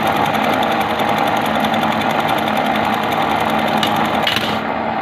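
A buttonhole sewing machine runs at slow speed with a fast, even mechanical chatter and a dense whirring hum, its cutter fault making the noise loud; the running is steady and close throughout, then tapers slightly at the end.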